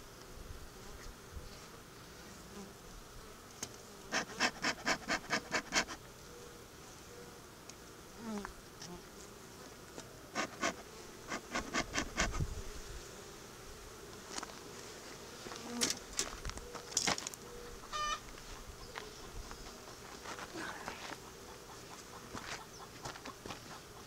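Honey bees buzz steadily around a plastic beehive outdoors, a soft continuous hum with louder passes of individual bees flying close, and a chicken faintly clucking in the background.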